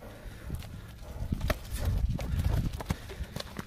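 Kyrgyz horses' hooves clip-clop on firm ground, a loose, uneven run of close, fairly soft hoofbeats with a few sharper strikes, over faint background murmur.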